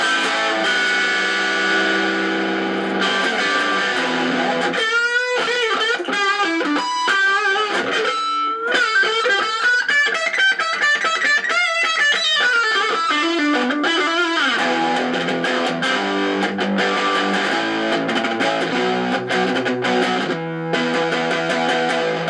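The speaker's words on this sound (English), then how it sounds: "So let me try it out with some distortion so you can see how that sounds." A B.C. Rich Mockingbird ST electric guitar played through heavy distortion, with sustained chords and a bent, wavering lead phrase in the middle, loud and alone.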